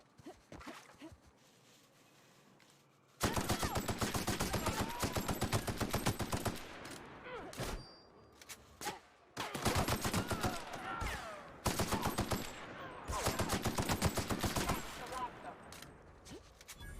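Gunfire in the video game The Outer Worlds, dense bursts of rapid automatic shots in several long volleys separated by short pauses, loud and close.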